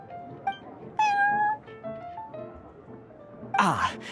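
A cat meows repeatedly inside the video game Genshin Impact, with several drawn-out tonal mews heard up close, followed by a louder burst of game sound at the end.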